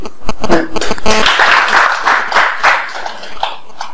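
Audience at the opening of a regional capacity-building workshop applauding a speaker; a burst of clapping builds quickly and holds as a full, close patter before thinning slightly toward the end.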